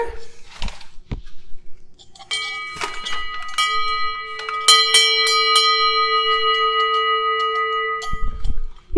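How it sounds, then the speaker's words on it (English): A bell is struck several times and rings with clear, sustained overlapping tones that hang in the air, after a few soft thumps at the start. "you could ring a bell."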